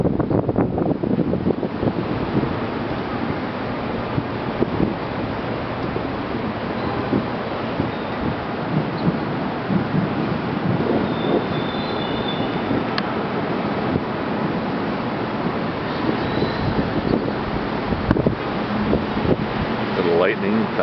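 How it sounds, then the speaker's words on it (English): Storm wind picks up outdoors, blowing and buffeting the microphone in a steady, loud rush for about twenty seconds, with a person talking intermittently over it; no distinct thunder stands out. "Right now the wind is picking up."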